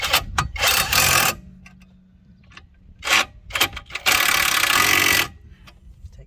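A ratchet spins brake caliper bolts up lightly on the front brakes of a Seat Leon 1.9 TDI PD, loud bursts of rapid clicking whir separated by quieter pauses, close by.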